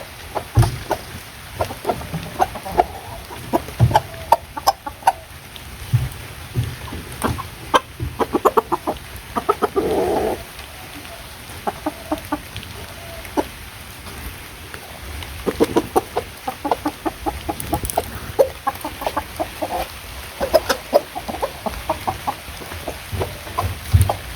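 A rooster and hens cluck and call outdoors in a village yard, sounding as a run of short, repeated clucks and calls at moderate distance over light background noise.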